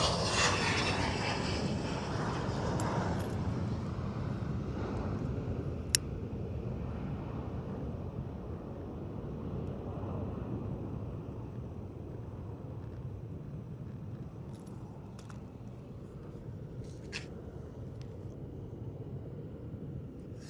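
Airplane passing overhead outdoors, a broad steady engine roar that slowly fades over twenty seconds, mixed with wind noise on the microphone and a few faint clicks.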